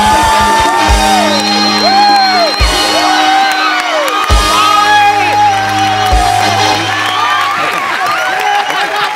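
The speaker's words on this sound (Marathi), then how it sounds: "एकदा जोरदार टाळ्या." A studio audience on a Marathi comedy stage show erupts in loud, sustained cheering, whoops and shouts mixed with applause, filling the whole stretch with dense crowd noise.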